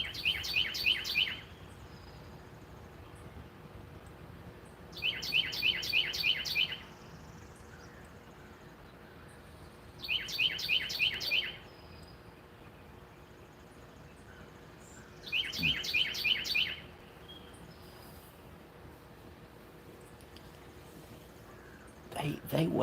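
Small songbird at dawn chirping in four short bursts of rapid, bright repeated notes spaced a few seconds apart, fairly clear over a quiet, low background hum.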